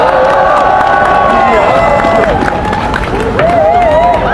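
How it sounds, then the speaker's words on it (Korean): A large audience at a memorial concert for Pastor Moon Ik-hwan applauds and cheers loudly and steadily, with whistles and shouts rising over the dense crowd noise throughout. "힘찬 박수로 모셔주시기 바랍니다."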